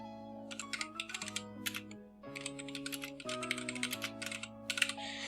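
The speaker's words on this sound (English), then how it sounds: "Let's just type in the information." Typing on a computer keyboard while entering a lead's details: rapid, irregular clusters of close, crisp key clicks over a steady background tone, with no talk.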